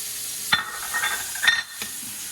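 Veal pieces seasoned with salt and pepper brown in a hot frying pan, giving a steady close sizzle broken by a few sharp scrapes as the meat is pushed around.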